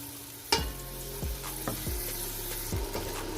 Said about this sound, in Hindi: और इसको हम अच्छे से भून लेंगे ताकि इसकी स्मेल सारी ख़त्म हो जाए और जो टमाटर है वो भी अच्छे से गल जाए